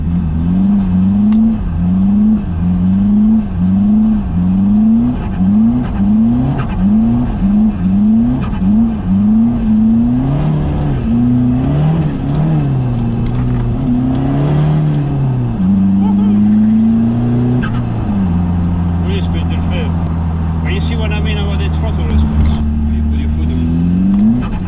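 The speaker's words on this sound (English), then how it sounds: "but Thomas, thanks to this newfound power, drifts this around with ease." A diesel-swapped Toyota MR2 revs hard while drifting, its engine note rising and falling in a steady cycle of surges close by, then holding a steadier drone, with a voice talking over it.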